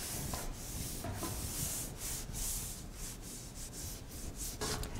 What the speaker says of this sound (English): So I'm wet sanding the edges.